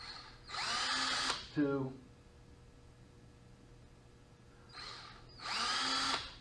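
A power drill bores pilot holes to mount Ryco turn signals on a Can-Am Maverick Trail, whirring close and loud in two bursts with a quiet gap between. Someone speaks briefly after the first burst.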